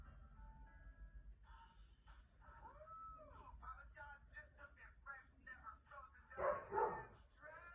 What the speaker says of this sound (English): he was barking like crazy at the back